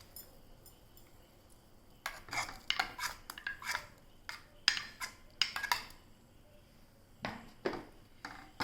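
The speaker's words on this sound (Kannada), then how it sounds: "ಕಾರ್ನನ್ನು ಸೇರಿಸ್ಕೊಳ್ಬೇಕು." Ground sweet corn stirred into boiling soup in a pot, with a faint simmering hiss and then bursts of close ladle clinks and scraping against the metal in uneven strokes.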